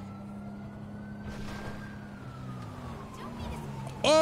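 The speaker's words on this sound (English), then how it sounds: "Police siren started." A police siren wails in a cops video game, its steady tone rising and falling faintly beneath game ambience and a player's voices, then a sharp, louder sound bursts in at the end.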